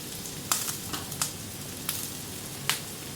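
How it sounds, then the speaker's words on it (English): Bratwursts simmering on a Camp Chef FTG600 flat top grill, a continuous soft bubbling sizzle with a few sharp pops and crackles, close and steady. "I got a little simmering action going on."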